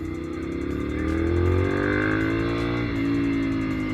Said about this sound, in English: in the first gear, you give the throttle a little bit of angle and it's already delivering loads and loads of low end power